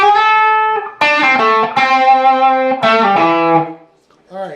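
Electric guitar solo, a loud, overdriven phrase of sustained and bent notes with effects, played up close and ending in a brief fade.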